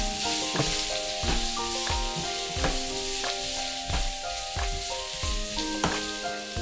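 Shallots fry in a pan of pork belly fat until glassy, a continuous close sizzle broken by regular rhythmic stirring strokes roughly every half second to second, with no talking.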